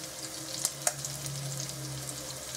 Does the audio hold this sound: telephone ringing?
no